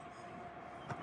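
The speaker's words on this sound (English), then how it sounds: "here comes another train" An eastbound grain freight train with badly flat-spotted wheels rumbles past at a railroad crossing, a brief, steady rolling rush of rail noise.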